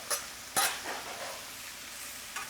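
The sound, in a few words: peppers stirred in a pan with onions and mushrooms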